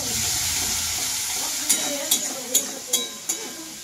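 Onion and tomato fry together in a pan with a steady low sizzle, followed by five evenly spaced sharp clacks of a spatula against the pan near the end.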